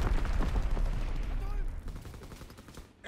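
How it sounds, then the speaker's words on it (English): Mortar fire in Call of Duty World War II multiplayer: dense, rumbling explosive blasts and gunfire, loud and continuous, fading toward the end with a muffled battlefield din underneath. "Sending mortar rounds."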